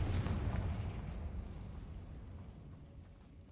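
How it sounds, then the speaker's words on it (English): A Confringo spell explodes in the video game Hogwarts Legacy, a deep, booming blast that hits hard at once and then rumbles away as it fades. "Confringo!"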